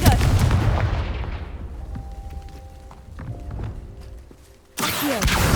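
A Confringo fire spell bursts in Hogwarts Legacy, heard as loud booming blasts up front that fade into a quieter stretch of faint thuds and tones, then a second loud burst near the end.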